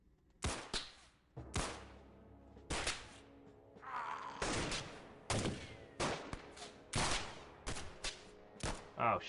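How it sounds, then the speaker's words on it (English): Gunfire from the XCOM video game, a string of loud, sharp shots arriving in irregular bursts roughly every half second to a second, with brief echoing tails and a muffled thump in between. "they're shooting at me from behind"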